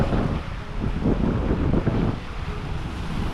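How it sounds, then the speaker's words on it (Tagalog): Strong wind buffets the microphone in a constant roar, with low gusting rumbles and what may be surf or water in the background. "Malakas yung hangin."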